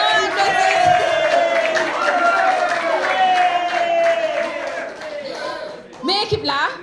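Audience applause and cheering for the winning team at table five during a daytime event, a sustained crowd of clapping with whoops, heavily mixed with an amplified voice talking over it, and a burst of louder activity near the end.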